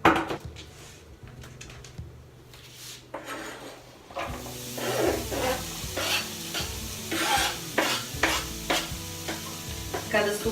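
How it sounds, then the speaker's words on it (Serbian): Chopped seafood risotto ingredients sautéing in a little oil in a wok: a quiet start with a few scrapes, then steady sizzling and frying with repeated stirring and scraping strokes, close and alone. "stavite malo ulja i dinstajte da ne zagori"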